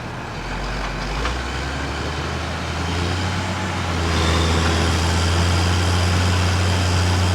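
A bogged truck's engine roars hard at full throttle in second gear, a steady loud low drone that climbs and grows stronger partway through, with no talk over it.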